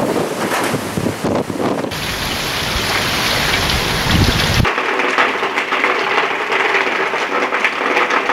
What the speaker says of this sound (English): Wind, rain, and hail, the calling cards of Typhoon Kapu